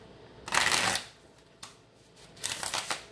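Tarot cards are shuffled in two quick riffling bursts, with a brief tap between them, close and crisp with no talking.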